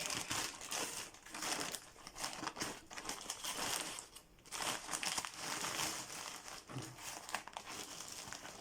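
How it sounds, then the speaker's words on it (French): Plastic packaging bag for a cross-stitch kit being crinkled and torn open, with close, irregular crackling and crumpling bursts that come and go, quiet overall. "Je voulais pas craquer le sac"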